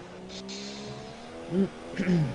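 Tyres of a racing car lock and squeal under heavy braking in a sim-racing league race at Baku, over a steady engine drone, with two short screeching bursts near the end and some background talk.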